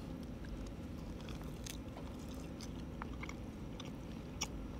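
Someone chews canned bacon up close, a steady soft run of wet biting and mastication sounds over low background noise, with no talking.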